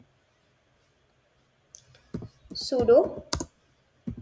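Computer keyboard keys clicked in a short burst of typing as a command is entered, soft and close, with someone speaking over part of it.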